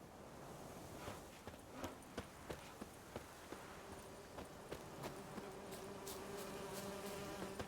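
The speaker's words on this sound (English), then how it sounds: "Use Igni to kill the bees." Bees buzz faintly in The Witcher 3: Wild Hunt as a thin, steady drone, dotted with soft rhythmic clicks like footsteps in the game world.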